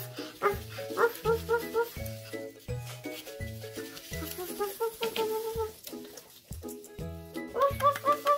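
Cartoon puppies yip and bark in short bursts over a rhythmic musical backing, the barks light and repeated throughout.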